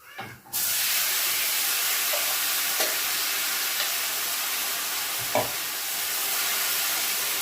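Potatoes dropped into a pan of hot oil with garlic and coriander burst into a loud, dense sizzle that continues evenly, broken by a few faint utensil taps, heard close with no speech.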